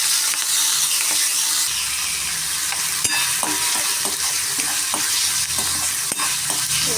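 Onions, ginger garlic paste and curry leaves sauté in a pan for a mixed gravy, giving a loud, continuous sizzle and frying hiss with intermittent scraping and clinking of a spoon stirring against the pan.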